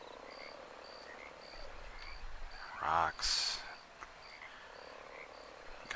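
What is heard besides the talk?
frogs croaking by a stream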